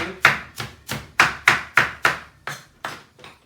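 Knife chopping parsley on a cutting board, about ten crisp, evenly spaced strikes close up and fairly loud, with no talking.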